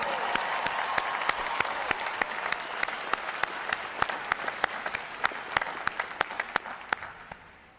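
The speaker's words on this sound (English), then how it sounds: "How about a round of applause for them, your sailors?" An audience claps for sailors at a Navy boot camp graduation, a broad steady roar of many hands with sharp individual claps standing out, gradually thinning toward the end.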